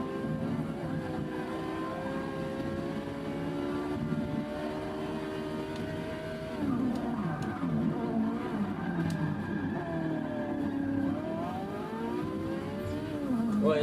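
Porsche engine in the Forza 6 racing game, a steady sustained drone with harmonic whine rising and falling through gear changes, other race cars faintly alongside, no talking.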